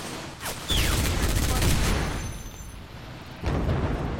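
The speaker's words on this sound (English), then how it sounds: "I think he was throwing a grenade." Gunfire and a grenade blast in a shooter video game, loud rapid bursts of shots with a booming explosion, close and dense, fading briefly before another burst.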